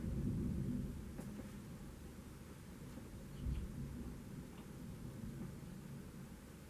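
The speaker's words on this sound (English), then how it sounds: "No lightning that time, just went another thunder." Distant thunder during a storm, a low rolling rumble with a soft swell midway, faint and steady over a hiss of background noise, with no voices.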